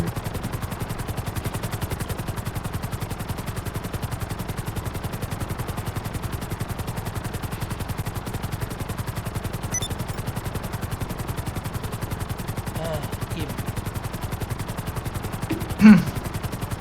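Rapid gunfire from a helicopter during a video game heist, a dense steady stream of shots over a constant rotor-like rumble, with one sharper hit near the end.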